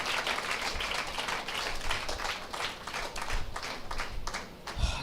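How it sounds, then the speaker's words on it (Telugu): A conference audience at a church women's gathering claps loudly, a dense continuous wash of applause that holds steady with no pauses. "మీ అందరికీ బిగ్గరగా చప్పట్లు కొట్టి ఒకసారి"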